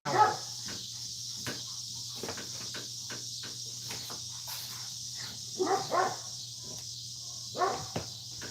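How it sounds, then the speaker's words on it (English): A dog barks excitedly in a few sharp bursts, one at the start and a cluster later, over a steady low hum and chirping, insect-like background. "My dog's crazy up here."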